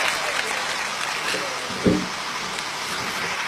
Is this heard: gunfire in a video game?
no